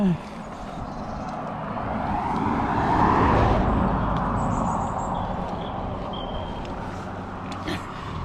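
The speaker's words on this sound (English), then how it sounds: "You might notice a lot of cars around me." Steady road traffic from cars passing along a road beside woods, a continuous broad rumble that swells around the middle as vehicles go by, with faint birdsong above.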